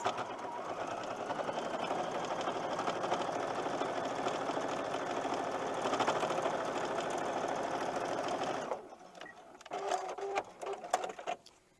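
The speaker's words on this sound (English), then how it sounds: "Again, just simply flip it over and start sewing." A sewing machine runs steadily, stitching rectangular quilt fabric pieces with a quarter-inch seam for Christmas tree placemats, then stops, leaving a few brief clicks and handling sounds.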